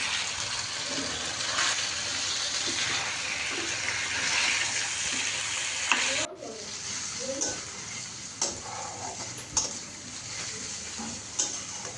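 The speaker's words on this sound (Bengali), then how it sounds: "মুরগিটা ভাজার পর এখন আলুটাও ভেজে নিচ্ছি।" Potatoes frying in a pan after chicken, a steady loud sizzle running throughout, with occasional stirring scrapes and clatters near the end.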